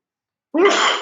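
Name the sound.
person sneezing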